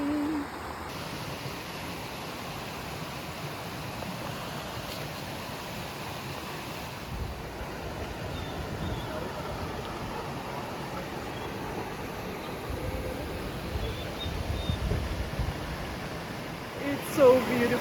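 A hidden waterfall in Portugal rushes steadily in a broad, even wash of noise, close and continuous throughout with no break.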